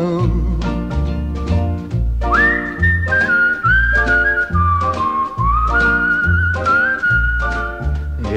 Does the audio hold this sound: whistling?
yes